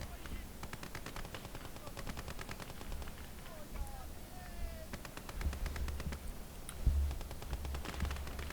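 Sustained gunfire from Call to Arms: Gates of Hell, a Finland skirmish battle with machine guns and rifles firing in rapid, dense bursts almost without pause, distant artillery thuds underneath.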